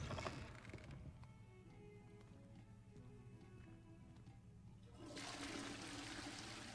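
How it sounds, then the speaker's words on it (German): A toilet flushes in Hogwarts Legacy, a sustained rushing gurgle of water that swells loudly at the end, heard alone without speech. "Ach so, wir können die Spülung ziehen."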